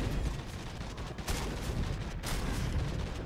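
Heavy, sustained gunfire from a weapon in the video game Space Hulk: Deathwing. It forms a dense, continuous roar of rapid shots, loud and close, with brief dips, and no speech is heard.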